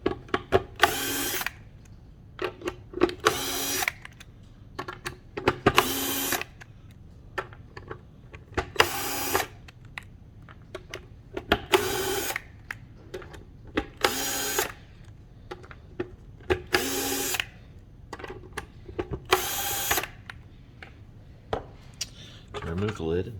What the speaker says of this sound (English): You want to take your torque all the way up to max to unscrew this, because these screws are on really tight.